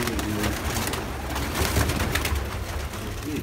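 Pigeon cooing near a nest with an egg, soft low coos under a steady, loud background hiss.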